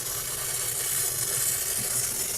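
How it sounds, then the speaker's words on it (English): Steady, continuous hissing from a Carey pressure canner processing meat, an even airy rush of steam escaping at moderate level without breaks or talk. "Steam going up, and this is going to count down to 0."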